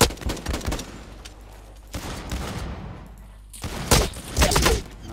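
Gunfire in the Blacklight Retribution shooter, loud close bursts of rapid shots in three clusters separated by short quieter gaps, with no talking.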